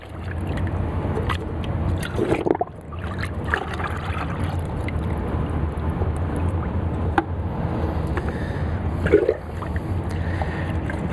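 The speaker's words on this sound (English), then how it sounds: "You just kind of move the paint around, and most of it will come right off on the rag, and then dunk it again." Rag squishing and sloshing in a bucket of water while cleaning an Earlex HV5500 SprayStation paint sprayer, a steady wet swishing with a few louder splashy squeezes, close and without talk.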